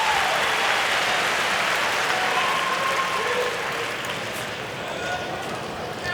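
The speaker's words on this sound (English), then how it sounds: "And there's a roar after every single point right now." A packed US Open tennis stadium crowd roars and applauds after a point in a third-round match, a dense, sustained wall of cheering and clapping that stays loud throughout with only a slight dip near the end.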